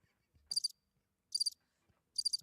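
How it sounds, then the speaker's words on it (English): Crickets chirp in three evenly spaced bursts of rapid trills against near silence, each short and bright, with faint low thumps between. "you hear the cricket"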